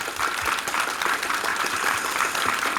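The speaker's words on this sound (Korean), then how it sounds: "다시 한번 감독님께 또 큰 박수를 드리고 싶습니다" Audience applause at the close of a Korean film special screening talk, dense, steady clapping from many hands filling the room without a break.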